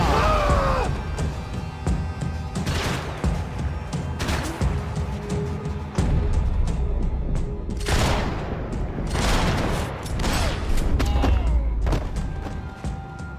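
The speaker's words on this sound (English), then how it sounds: "Gunfire over Hoboken." Bursts of gunfire crack in clusters with booming thuds, loud and close, over a busy battle din with occasional shouting, in Max Payne 3.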